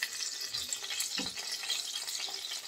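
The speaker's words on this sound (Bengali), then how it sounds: "উল্টে পাল্টে আমি মাছের দুপাশটাই লাল লাল করে ভেজে নিয়েছি।" Rohu fish fries in hot oil in a home kitchen, a faint, steady sizzle with a brief low clunk partway through and no talking.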